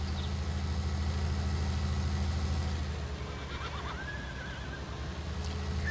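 Horse neighs from the Farming Simulator 19 game, a whinny rising over a steady low engine-like drone, with the drone thinning and a brief higher call near the end.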